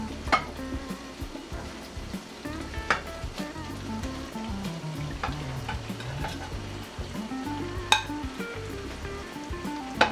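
Spinach sizzles as it goes into a pot of cooking melon seeds for a stew, a steady frying hiss with stirring scrapes and a few sharp utensil clinks.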